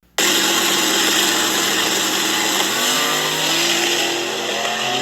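A modified truck's engine bursts to life abruptly with a loud, raw rev, holding a harsh roar before the pitch drops partway through and settles into a steady rumble.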